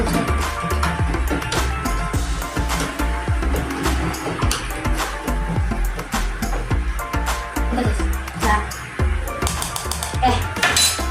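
A solution being stirred in a glass to dissolve it during a floating-egg experiment, with steady clinking and scraping of a utensil against the glass filling the whole stretch, fairly loud and continuous.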